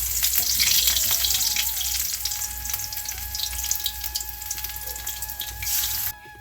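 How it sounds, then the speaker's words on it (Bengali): Hinche (watercress) fritters frying in hot oil, a loud, dense, continuous sizzle close by with a faint steady tone running beneath, the frying cutting off abruptly near the end, with no talk. "হিংচের বড়া ভাজছি।"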